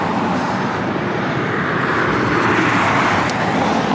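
Delta Airlines Airbus A321neo jet at LAX, a steady loud broadband engine roar rumbling continuously throughout, with no voices.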